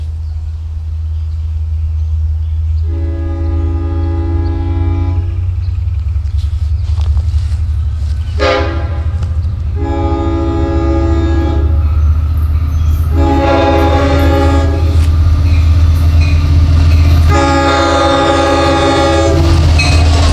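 An LIRR train passes St James station with a loud, continuous rumble and clatter of wheels on rails, while its horn sounds in four long blasts at close range.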